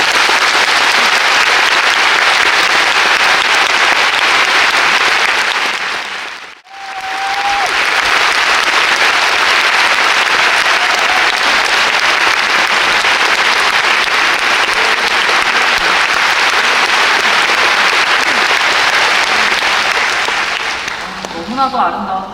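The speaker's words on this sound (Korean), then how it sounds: "큰 박수로 맞이하겠습니다" Loud, sustained audience applause fills a concert hall at an opera recital, steady for about six seconds, breaking off briefly, then rising again and carrying on at full strength until near the end.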